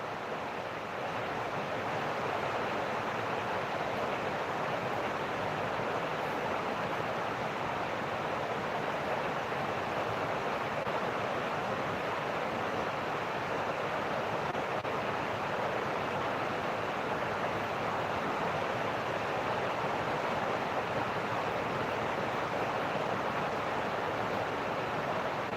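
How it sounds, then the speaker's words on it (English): Steady rain drums on a roof, a dense, continuous static-like hiss that holds at an even, fairly loud level throughout with no voices over it. "Can y'all hear the rain? It's coming on the roof."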